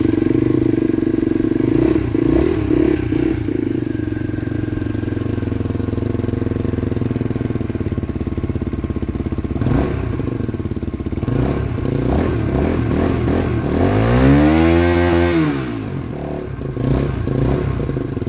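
A Skyteam Tracker 125 motorcycle engine runs steadily nearby with a low mechanical clatter, holding an even idle for most of the time before a brief rising and falling rev near the end.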